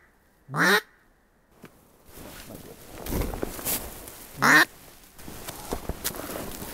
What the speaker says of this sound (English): That is a duck.